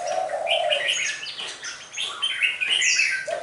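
Caged red-whiskered bulbuls chirp and call in quick bursts of bright, sharp notes, several birds overlapping close by as they fight, with no talking.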